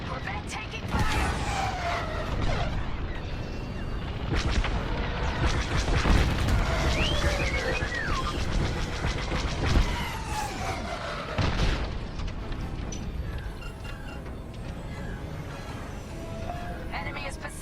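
Star Wars Squadrons space battle with a corvette taking fire: booming explosions and laser blasts over a dense layer of engine roar and alarm tones, with game voice chatter running throughout.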